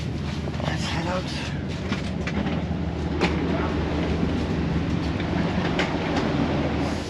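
An old sleeper train rumbles and clatters steadily nearby as it arrives at Hua Lamphong station in Bangkok, wheels rolling over the rails with metallic clicks, as people talk in the background.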